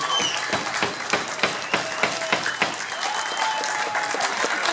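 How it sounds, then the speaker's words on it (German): An audience at the finale of Munich's CSD pride event in 2016 gives warm applause, a dense wash of clapping with some sharper individual claps, close and continuous. "Großen Applaus für Sie."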